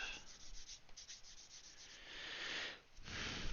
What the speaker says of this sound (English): it's important that I don't go too deep into sanding this